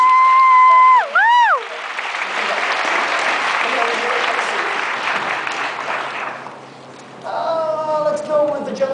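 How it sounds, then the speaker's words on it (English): An audience at a live after-hours show breaks into sustained clapping after a loud voice, then the applause fades out and a voice returns. "Give them both a round of applause."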